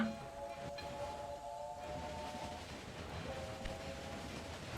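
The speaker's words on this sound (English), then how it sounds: "We have a lot of trains actually standing in line here" Trains in the Railway Empire game rumble along the tracks with a faint steady rolling noise and thin tonal squeals that come and go, quiet and distant, with no talk over them.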